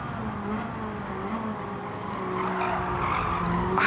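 Ferrari sliding and skidding through a corner in the racing game Gran Turismo 7, a steady tire squeal over engine drone that grows slightly louder toward the end.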